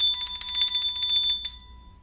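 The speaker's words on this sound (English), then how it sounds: "Hey, Fitzy, I'll ring the bell for you." Bicycle-style bell rung in a quick rapid burst of bright metallic dings for about a second and a half, then a short ringing fade, close and clear.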